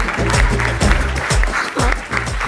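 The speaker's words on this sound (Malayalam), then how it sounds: "കൈയടിക്ക്" An audience at a Malayalam comedy show breaks into loud, dense applause that stays close and steady throughout, with voices and laughter mixed into the clapping.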